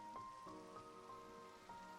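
Rain falling in the Minecraft video game, a soft, steady patter with faint repeated tonal blips on top, quiet and without voices.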